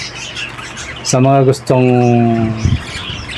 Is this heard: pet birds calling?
yes